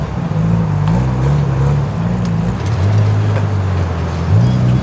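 A real Honda EK9 Civic with a swapped B20 engine idles and revs nearby at a busy car meet, a steady engine drone with a few shifts in pitch over loud background noise.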